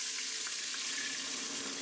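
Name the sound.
pouring water into a pressure cooker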